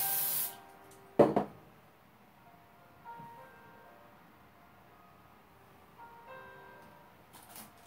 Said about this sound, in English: And I'm going to spray it.